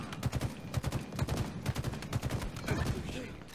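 Rapid bursts of gunfire from Halo Infinite multiplayer combat, with repeated close shots clustered in quick volleys over game noise, and a player's voice speaking faintly underneath.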